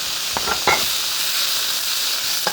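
Vegetables with a small splash of soy sauce sizzle in a very hot pan, a steady bright hiss filling the clip with a few sharper crackles and scrapes near the start and one at the end.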